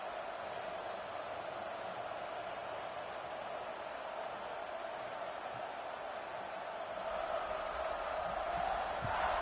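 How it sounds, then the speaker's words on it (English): Stadium crowd in the video game College Football 26 keeps up a steady, dense roar that swells slightly toward the end, a continuous wash of voices with no single call standing out. "this crowd is buzzing after that last score."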